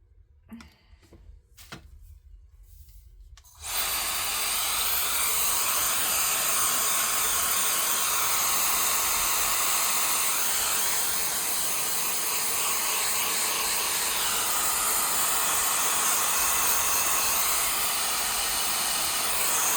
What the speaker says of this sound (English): Let me go ahead and blow dry this a little bit.